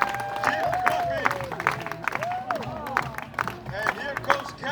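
An outdoor audience at the Polynesian Cultural Center in Hawaii claps along in steady rhythmic hands, with crowd murmur and someone talking over the clapping.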